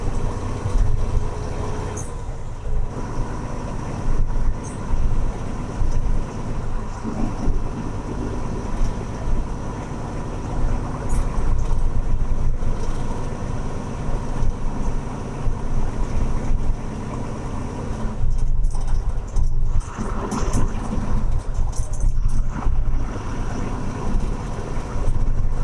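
Steady vehicle noise on a night road on the way to an Apollo tyre company in Gujarat, a continuous rumbling drone with wind that holds through the whole stretch, with some talk mixed in.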